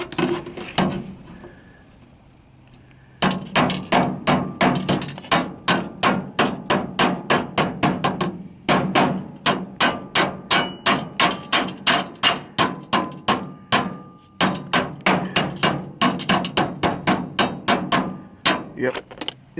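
A hammer taps metal on a 620 John Deere during a corn harvest, bursts of rapid, sharp, ringing close blows in rhythmic runs separated by short pauses.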